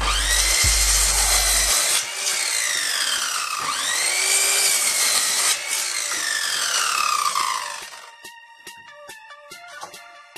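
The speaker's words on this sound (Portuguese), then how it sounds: "Agora vou cortar duas tábuas à largura da mesa para servir de travessas." Wooden boards are cut to the width of a table to serve as crosspieces, with a steady rasping saw stroking back and forth up close in long repeated passes that stop near the end.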